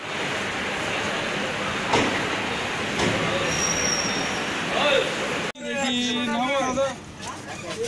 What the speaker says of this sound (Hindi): अभी ट्रेन आ चुकी है, सामने भी आ रही है